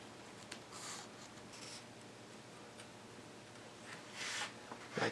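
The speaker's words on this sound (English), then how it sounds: "now I'm just going to trace. I recommend you use a pencil for this." A pencil traces around the inner frame of a sun visor, quiet scratchy strokes in short bursts with pauses between them, close up and alone.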